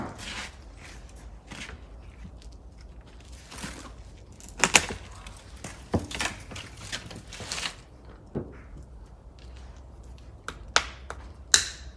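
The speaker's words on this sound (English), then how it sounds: "So if I can ask with the loppers, we will just lop this off over here." Loppers cutting off a Japanese maple branch, giving several sharp woody snaps and clicks scattered irregularly, close by and fairly loud against quiet garden background.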